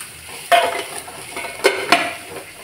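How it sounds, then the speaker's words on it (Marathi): Vegetables being stirred and sautéed in a pan, with a utensil scraping and clinking against the metal three distinct times over a soft background of cooking noise. "तर नुसतं जरासं परतून घ्यायचं."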